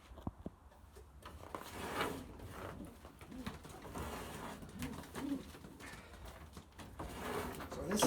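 A young racing pigeon coos softly in repeated low throaty bursts while being handled up close, with faint rustling and handling noises between the calls.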